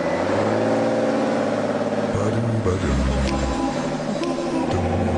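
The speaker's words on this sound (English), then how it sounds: "I'm going to floor it, watch out!" Modified Smart 4x4 revving hard at full throttle in first gear, the engine note climbing and shifting in pitch, loud and close, while someone talks over it.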